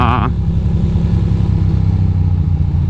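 A motorcycle rumbles steadily up close during a morning ride, its low engine drone continuous and loud after a brief burst at the start.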